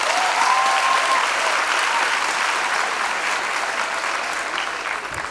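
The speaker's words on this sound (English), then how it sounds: "Give them a round of applause." Audience applause at a university first-year student orientation in Durban, greeting a choir's performance: dense, steady clapping from a large crowd, loud and continuous, tapering slightly toward the end.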